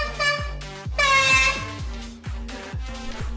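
A homemade air horn built from plastic bottles blares in repeated loud, tuned honks, each blast starting with a low pitch that drops, separated by short gaps.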